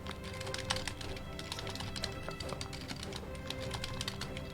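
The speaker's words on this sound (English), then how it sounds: "I'm just typing it on my other monitor" Fast, steady typing on a computer keyboard, dense overlapping key clicks heard close and alone, with no talk over them.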